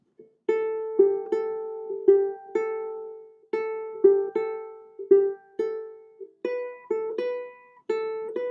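A solo ukulele picks a tune as single plucked melody notes, each one ringing clearly and then decaying, in a steady unhurried phrase played close up with no talking.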